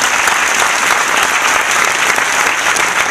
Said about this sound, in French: on peut applaudir à nouveau ces deux projets qui ont été présentés